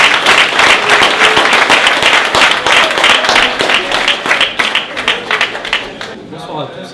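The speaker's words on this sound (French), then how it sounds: "je vous demande de l'applaudir pour l'accueillir" Audience applauding in a hall to welcome the new coach of the Celles-sur-Belle women's handball club at its D2F 2018-2019 squad presentation; dense, steady clapping from a crowd that continues throughout and thins out toward the end.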